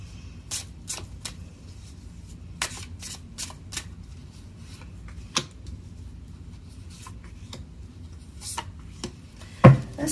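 Oracle cards being shuffled close by in a quiet room, a series of soft, quick riffling and slapping bursts spread irregularly over several seconds with a louder handling knock at the end.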